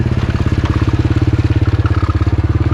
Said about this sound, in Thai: ขี่รถลุยน้ำเข้าไปเลย